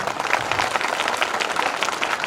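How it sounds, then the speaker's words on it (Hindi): Steady audience clapping fills a hall at a science academy event in Sujangarh, a dense crowd applause running throughout. "देखो तालियां बता दो कितना अच्छा लग रहा है"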